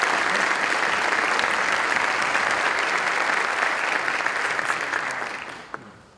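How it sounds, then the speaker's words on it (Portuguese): An audience at a technical session on water and energy gives a big round of applause to the event's organisers, a loud, sustained crowd clapping that tapers off near the end. "num grande salva de palmas à Águas do Algarve"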